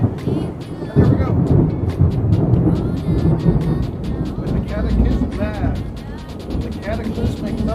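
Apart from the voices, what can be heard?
thunderstorm in the background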